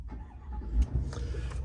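A 2023 Chevrolet Silverado ZR2 Bison pickup engine cranks and catches, a couple of low thumps followed by a steady rumbling idle close by.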